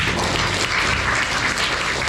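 A church congregation at a Sunday service in Pontianak claps together, a dense continuous burst of applause that stays loud and even throughout without talk.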